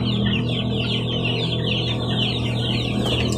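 Small chicks and grown chickens cluck and chirp together in a backyard poultry pen, a dense, continuous chorus of close, overlapping calls with no talking.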